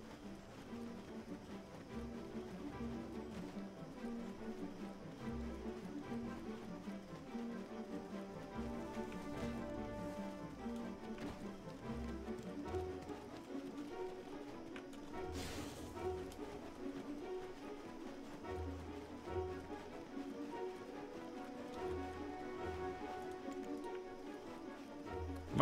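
Rhythmic hoofbeats of a horse in the online game Black Desert Online, a steady soft clip-clop running throughout under a faint musical game soundtrack, with no talking.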